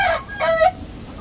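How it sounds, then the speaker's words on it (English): A white rooster gives two short, loud, close clucking calls in a farm yard, each call brief and alone with no talk over it. "Apparently, we like white roosters around here because we have a few."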